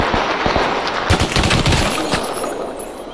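Dense automatic gunfire and rapid shots crackle in the WWII video game Block Front, with bursts layered over one another at close range and no voices heard.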